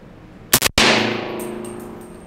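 One sharp, loud subsonic gunshot from a Q Honey Badger SBR rifle, close by, its report ringing out into a fading metallic decay.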